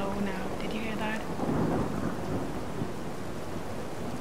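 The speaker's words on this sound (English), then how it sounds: "See the lightning, and the thunder is very low now." Low, distant thunder rumbles through a rainstorm in Fallout 4 with the True Storms mod, a soft rolling swell over the steady hiss of rain, with no talking.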